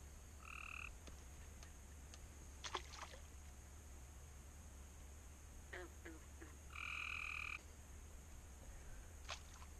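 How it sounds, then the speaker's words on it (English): Frogs croak outdoors, with two clear bursts of repeated rasping calls early and later, over a faint steady background hum, plus scattered light taps and splashes; quiet and somewhat distant. "he pins a frog down but still gets out of his grasp"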